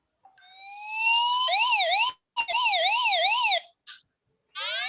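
A fever alarm on a temperature sensor device, triggered by heating the sensor with a soldering iron, sounds loud electronic tones: a rising sweep becomes a fast warble, cuts out briefly, resumes, then stops before a final burst of rapid chirps.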